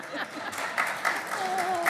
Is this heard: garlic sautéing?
no